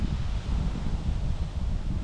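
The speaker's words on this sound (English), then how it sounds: "It's just a windy day, windy day." Steady wind buffeting a microphone beside a riverbank on a gusty October day, a continuous low rumble with rustling and no pauses, loud and close throughout.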